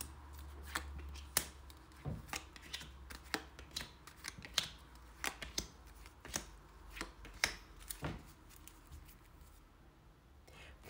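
Tarot cards being shuffled by hand, a steady run of sharp, close riffling snaps and soft slides that repeat irregularly over a low background hum, with no one speaking.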